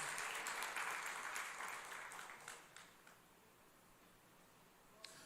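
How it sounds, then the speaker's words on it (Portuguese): Faint applause from a church congregation, a soft patter of many hands that tapers off within a few seconds, leaving near-quiet with a small tick at the end. "Quem recebe essa palavra esta noite, aplauda o nome do Senhor Jesus."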